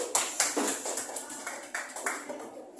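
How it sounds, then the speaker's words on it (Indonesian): Scattered classroom clapping for a student group, a few sharp claps at first then a thinner, uneven patter that fades, moderately faint and without talk. "Kelompok 2 mendapatkan nilai 85. Tepuk tangan dulu"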